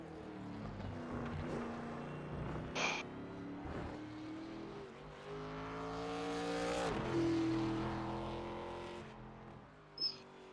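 A race car laps Lime Rock Park in an ARCA racing video game, its engine rising and falling through shifts and corners, with brief tyre or gear squeals and a steady drone, no voices.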